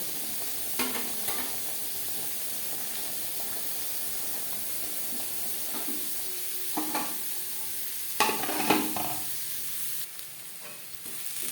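Onions for chicken biryani fry in hot oil with a steady hiss and sizzle, punctuated every few seconds by bursts of spatula stirring and scraping, close by with no speech.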